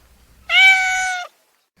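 A single clear cat meow, close and fairly loud, lasting under a second, with near silence around it.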